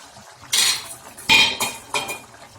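A metal lid lifts off a pot of boiled egg gravy on a home stove, giving three or four clattering metallic clanks spaced about half a second apart, fairly close, with no talking.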